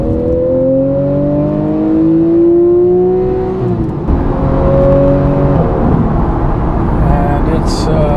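A Porsche 911 GTS with a PDK gearbox pulls away into traffic, its engine note rising in long, smooth sweeps without a pause for a gear change, then settling into a steadier drone. A driver talks over it.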